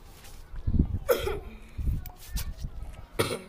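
A few short, husky coughs break up otherwise quiet room sound during Minecraft gameplay, close to the microphone and moderately loud.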